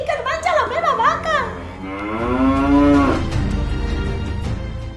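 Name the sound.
cow mooing, sound effect in a story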